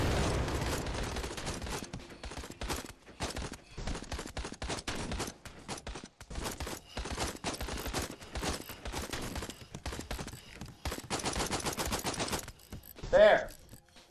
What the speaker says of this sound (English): Is that a machine gun nest? Damn right it's a machine gun nest.